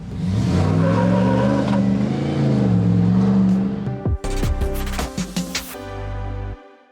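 A 2025 Jeep Gladiator with a 5.7 liter Hemi V8 rumbles loudly at close range, its engine note rising and falling, then a burst of revving and a quick shift as it drives off before cutting out.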